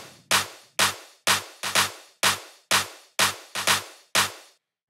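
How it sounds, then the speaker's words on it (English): A layered percussion hit built from a clap, a tom and a bass shot repeats nine times in an uneven electronic house rhythm, with punchy tonal bodies and bright snappy tops, dry and up front. "mix of a clap and a tom"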